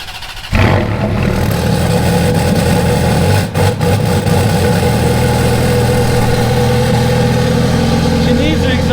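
A Ferrari F430 engine starts up and then runs steadily, a loud close mechanical drone with a brief dip partway through, while people talk over it.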